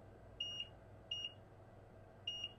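A multimeter beeps while testing a filter on an iPhone 6 Plus: three short, clear, high-pitched tones spaced unevenly over a quiet background hiss.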